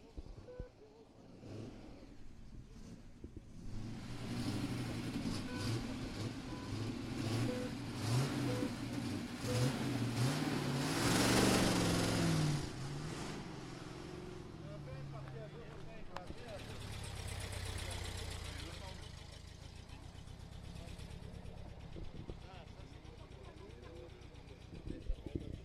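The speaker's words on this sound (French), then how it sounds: "Au départ, la Ford Galaxy d'Yvan Mahé, voiture de 1963" A 1963 Ford Galaxie's large engine rumbles and revs repeatedly at a Tour Auto rally stage start, loud and close, with a crowd murmuring and talking in the background.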